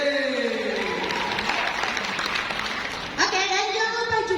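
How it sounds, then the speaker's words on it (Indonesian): Applause from a Catholic charismatic gathering in Makassar fills the hall as a broad, steady wash of clapping, with a voice speaking over it near the end. "Boleh dong sekali lagi saya dengar suara tepuk tangannya yang hadir tempat ini."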